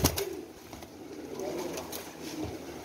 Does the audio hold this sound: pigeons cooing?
yes